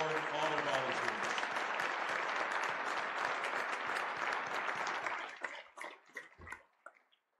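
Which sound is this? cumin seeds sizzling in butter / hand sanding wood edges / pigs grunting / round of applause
round of applause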